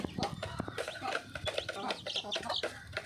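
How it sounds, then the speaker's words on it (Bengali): A flock of nine hens and a rooster, with some chicks, cluck and squawk close by in quick, overlapping bursts, busy and continuous over a short stretch. "নয়টি মুরগি আছে এবং একটি মোরগ আছে"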